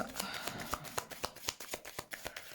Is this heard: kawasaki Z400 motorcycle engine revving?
no